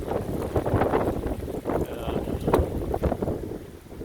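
Cold, gusting wind blows steadily across an outdoor microphone near water at sunset, with a broad roaring rush that swells and dips over several seconds and no talking.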